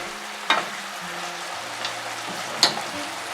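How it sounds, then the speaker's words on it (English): Fajita filling with fresh lime juice and cilantro sizzles in a hot pan as it is briefly stirred. A steady fry runs underneath, broken by two sharp utensil clinks, and no one speaks. "Briefly stir and cut the fire."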